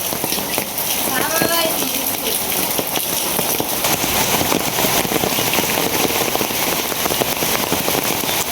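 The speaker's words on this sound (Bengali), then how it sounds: "হ্যাঁ এটা বৃষ্টি।" Steady rain falling outdoors in rural Bangladesh, a dense continuous hiss of drops on surfaces, close and fairly loud, with people talking over it.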